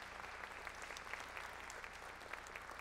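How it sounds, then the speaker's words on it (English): Audience applause at a county jazz ensemble concert, a steady, even patter of many hands clapping, heard faintly and from some distance with no voices. "Give them a big round of applause."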